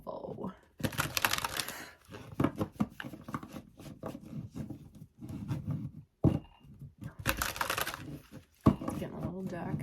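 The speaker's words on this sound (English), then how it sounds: "I want to give these a good shuffle." A deck of tarot cards being shuffled up close in quick, papery bursts of riffling and flicking, pausing briefly between rounds.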